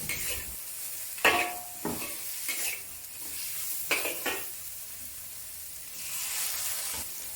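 Snow peas, baby corn and mushrooms stir-fry in a hot pan with a little added water, sizzling softly under several sharp scraping strokes of a utensil against the pan, close up and with no talk.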